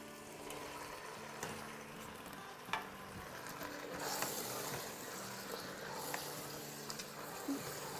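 About two pounds of bone-in goat meat sizzles and crackles in hot oil in a pot, a steady close frying hiss with occasional stirring clatter, fairly quiet.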